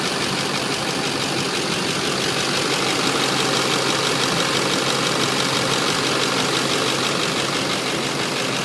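A 2009 Chevrolet Silverado Duramax diesel idles steadily and evenly at close range, with a dense, constant engine rattle and no voices.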